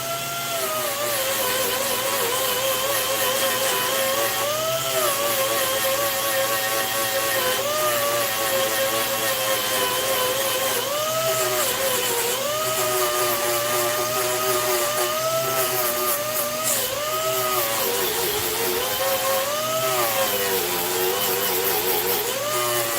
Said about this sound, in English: I got this grinder turned down so that I don't dig big deep grooves in this plate.